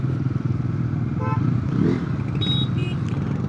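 A Bajaj Pulsar N160 160cc motorcycle engine drones steadily while riding a potholed road, with clattering and brief squeaks as it rolls over bumps, heard up close.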